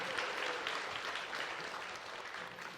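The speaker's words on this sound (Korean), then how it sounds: "박수 주십시오" Audience applause at a Gimpo peace concert, a steady wash of many hands clapping at once, sustained and fairly even for the whole stretch with no voices over it.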